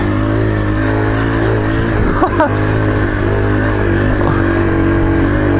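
A small-wheel 2002 Yamaha TTR 125 dirt bike engine runs close and loud with a steady, buzzing drone. A brief throttle blip rises and falls midway.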